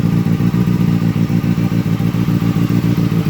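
A Kawasaki ZX6R engine idles cold after a cam chain tensioner adjustment, a steady close-up rhythmic putter with a light mechanical clatter riding on evenly repeating pulses.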